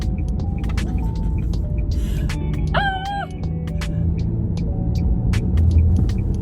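A 2020 Nissan Juke accelerates around a roundabout, its steady engine and road rumble filling the cabin throughout, with a brief rooster-like crow rising midway.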